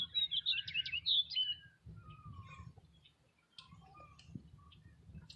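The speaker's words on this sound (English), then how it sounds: "Those little yellow finches." Small yellow finches chirp in a yard, a burst of bright, rapid twittering close by at first, then scattered fainter calls over a low background rumble.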